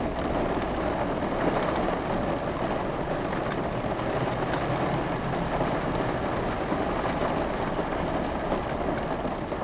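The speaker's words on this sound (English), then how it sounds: "I like the sound of the rain." Steady rain falls outside a car, a dense, even hiss that holds for the whole stretch with no voices over it.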